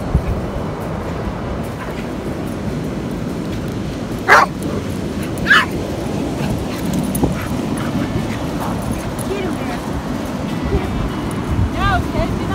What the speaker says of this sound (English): These are all shelter dogs.